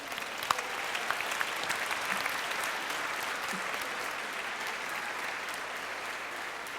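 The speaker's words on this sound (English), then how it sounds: "Round of applause for these people." Awards show audience at a magic and hypnosis act claps steadily, a moderately loud, even round of applause with a few sharper individual claps near the start.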